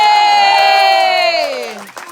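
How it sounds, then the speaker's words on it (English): A gathering at a court ceremony for Their Excellences of Myrgan Wood at a Summer Champions event lets out a loud sustained cheer, many voices held on one rising-then-falling tone that fades near the end. "wait, we didn't cheer for him first."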